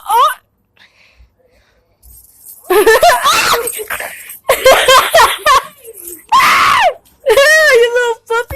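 A small puppy whimpers and yelps in sharp, high bursts while playing outside a motel, close and loud, mixed with excited human exclamations and shrieks between the cries.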